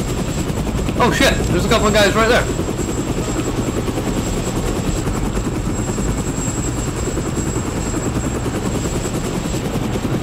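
A loud, steady helicopter rotor drones throughout a Rainbow Six Vegas match, close and unbroken, while a player speaks briefly over it near the start.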